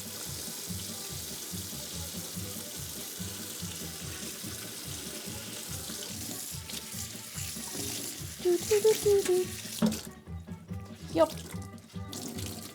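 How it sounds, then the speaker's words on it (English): Tap water runs steadily as a broadband wash throughout, with a person speaking briefly near the end and some handling clatter. "Come on, I know there's hot water."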